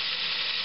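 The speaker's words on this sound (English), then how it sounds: "we're sizzling up, frying our bacon" Bacon frying in a pan makes a continuous, close hiss that is steady and fairly loud, with no breaks.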